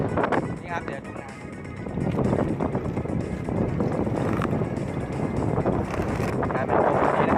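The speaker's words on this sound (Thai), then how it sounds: "ลมมากๆมากไปนี่ครับ" Strong gusting wind buffets the microphone at an outdoor flying field for model hydroplanes, a steady roaring rush with a voice talking underneath.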